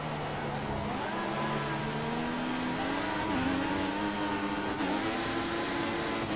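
An F1 2014 racing car accelerates in fourth gear with its wheels spinning, the engine note close and loud, climbing in pitch in stepped surges against steady road and tyre noise.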